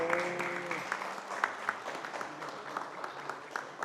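An audience claps at a Macedonian folk music show. The applause is dense and continuous at moderate distance, with sharp individual claps standing out and a brief tonal sound at the start.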